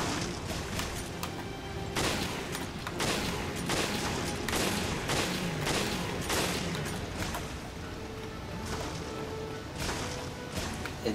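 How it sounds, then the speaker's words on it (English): Repeated gunfire in Resident Evil Revelations Raid Mode, co-op play, a steady series of loud sharp shots spaced about a second apart across the stretch, then thinning out toward the end. "And you're one of the ones shooting at me."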